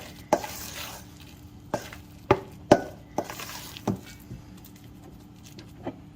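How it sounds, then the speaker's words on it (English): Biscuit dough being stirred in a bowl, heard as a series of sharp, irregular knocks and scrapes of the spoon against the bowl, close and fairly loud, with quiet pauses between and no talk. "Keep stirring."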